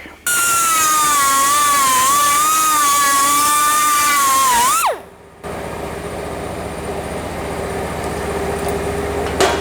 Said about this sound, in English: just tidy that up with a little Dremel